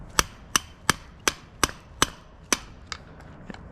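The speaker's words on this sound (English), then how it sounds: "ideally you want to take a hammer and then just hit it a few times" Nine sharp metallic hammer strikes land at a steady pace on a pry bar, the last few slightly lighter, close by with no talking, during MK3 Supra wiper motor removal.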